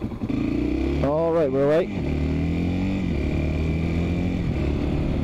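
A 1992 Yamaha Serow 225 motorcycle revs up through the gears, its engine note climbing and dropping with each shift, close and loud under brief talk.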